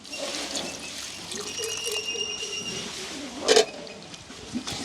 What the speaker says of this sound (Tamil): இன்னும் கொஞ்சம் தண்ணி விடலாம்